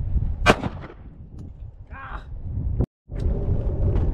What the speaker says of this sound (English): Oh, hey, 2 shots again.